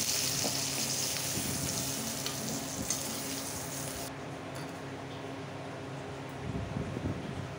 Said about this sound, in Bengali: আলু পেঁয়াজগুলো একটু ভেজে নিয়েছি, এখন তুলে নিই।